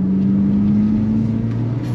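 Mk2 Ford Fiesta XR2 engine pulling steadily in third gear, a close, loud in-cabin drone with a slowly rising tone and no talk over it.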